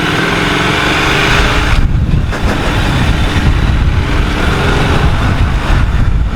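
A Triumph Thruxton R motorcycle fitted with a Leo Vince exhaust runs loud and close, with a rough, throbbing engine note that dips briefly and then picks back up into a steady rumble.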